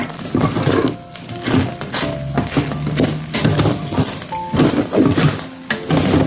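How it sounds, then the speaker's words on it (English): A spoon stirs chickpeas, rice and couscous together in a cooking pot, giving a steady run of scraping, clinking and soft sizzling strokes, fairly loud and close, with no talking. "Just stirring everything guys to make sure I combine it."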